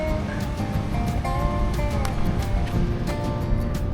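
Strong ocean waves surge and crash against the rocky crags of Bangol on the coast at Agno, Pangasinan, a loud, continuous roar of churning surf and spray up close, with faint tonal sounds and possible voices in the background.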